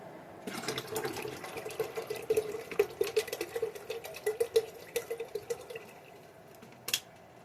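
Tap water pours into a pressure canner being readied for canning potatoes at home, a soft hiss broken by irregular splashing and dripping pulses, with a brief louder clunk near the end.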